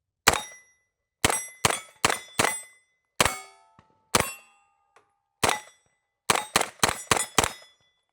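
Rounds from an HK MP5 ring off steel targets downrange: sharp metallic clangs and dings, first in singles and pairs, then a quick string of five, each ringing briefly into silence.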